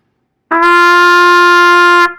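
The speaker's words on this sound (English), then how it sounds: "So G sounds like this." A single steady trumpet note, G, held for about a second and a half, clear and loud, starting cleanly and ending abruptly.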